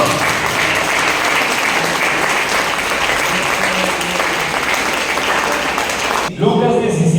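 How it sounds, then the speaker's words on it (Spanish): A church congregation claps in steady, loud applause that fills the room for about six seconds, then cuts off abruptly as a voice begins speaking. "Le damos un aplauso a Jesucristo nuestro Señor."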